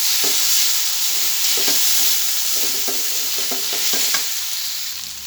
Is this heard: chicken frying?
yes